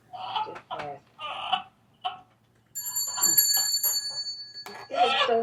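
A bell rings with bright sustained metallic tones partway through, loud and close, with people talking before and around it.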